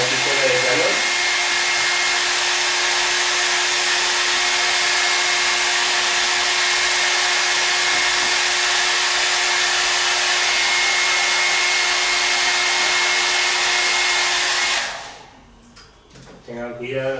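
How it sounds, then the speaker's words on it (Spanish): A hair dryer blows steadily to dry solvent off a surface, a loud continuous whooshing hum with a constant motor whine lasting about fifteen seconds before cutting off, followed by a voice speaking. "secador de pelo, una pistola de calor"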